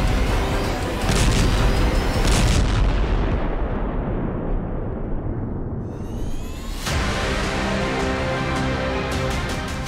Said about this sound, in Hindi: धमाके की गूंज से पूरा इलाका दहल उठा।